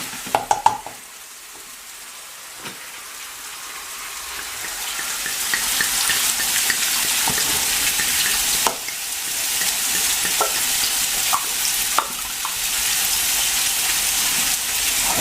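Red wine is poured into a hot pot of beef bourguignon, a few clinks giving way to a loud, sustained sizzle and bubbling hiss that runs steadily with light stirring noises and no talking.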